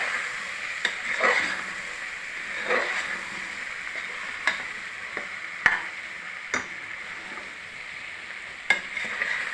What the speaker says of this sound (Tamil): மிளகா அப்புறம் எண்ணெயிலே போட்டு வதக்கினா தான் அந்த பச்சை நல்லா போகும்